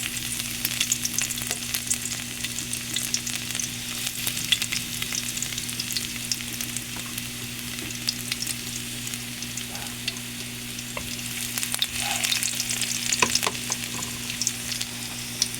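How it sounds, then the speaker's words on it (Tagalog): Garlic frying in cooking oil on a home stove, a steady bright sizzle with crackling pops running throughout, accompanied by a low constant hum in the background. "ayan na yung mantika at sundan natin yung bawang"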